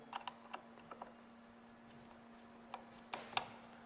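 Bolts being fitted to a carbon cover on a Husqvarna 701 auxiliary fuel tank, heard as a few light, scattered metallic ticks and clicks at close range over a quiet garage hum.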